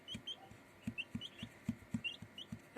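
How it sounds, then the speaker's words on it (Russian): Young chickens, a hen and two cockerels, cluck softly in a steady, uneven rhythm of short low notes mixed with faint high peeps, close by and with no voices. "здесь 1 курочка и 2 петушка"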